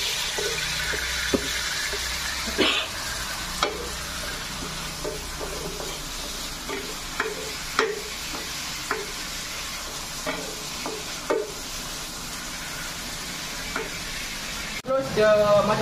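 Ingredients for sambal tumis and nasi lemak are stirred and mixed in a multi-purpose frying pan, with repeated spatula scrapes and knocks over a low, constant sizzle, close and fairly quiet throughout.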